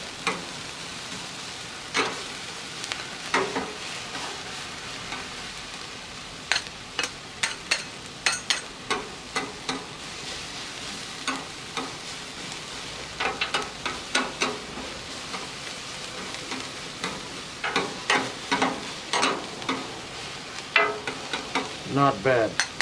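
Flank steak and onions sear in a cast iron skillet, a steady sizzle broken by frequent sharp scraping stirs that come in bursts, close and fairly loud, with no voices.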